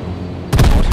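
A sudden loud boom bursts in after a quiet half second, a car exploding in the game H1Z1, with a broad rumbling blast that stays heavy to the end.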